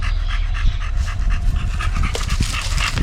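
An American bully dog pants heavily and rhythmically close to the microphone, quick breaths continuing steadily without any talking.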